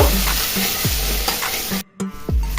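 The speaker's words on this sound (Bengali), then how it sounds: "এবার এই কাঁচা লঙ্কা আর আদাটা 1-2 মিনিট সময় নিয়ে ভেজে নিব।" Ground green chili and ginger paste fry in a pan for a vegetarian soybean curry. A dense, loud sizzle runs throughout, broken by repeated spatula scrapes and taps and one brief pause near the end. No one speaks.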